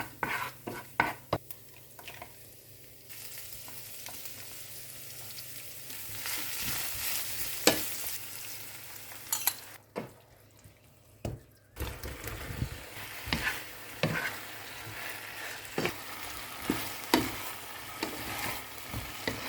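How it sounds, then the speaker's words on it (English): Mixed vegetables sautéing in a pan for a cauliflower and pork chop dish, with a steady sizzle and frequent scraping, stirring clinks of a utensil against the pan throughout, close and moderately loud with no talking. "Now we can start sautéing by putting our veggies step by step."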